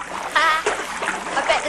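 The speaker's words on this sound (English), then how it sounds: "Swish the water about a bit" A hand splashing water in a pond in the Xbox 360 game Project Milo, a few short swishes and splatters close up, with a voice talking over them.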